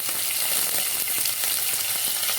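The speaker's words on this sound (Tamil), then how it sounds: "ஜீரகமும் பொரிஞ்சிருச்சு" Cumin, ginger and green chilies fry in hot oil for rava idli: a loud, close, crackling sizzle with dense spitting pops and some stirring, and no voices.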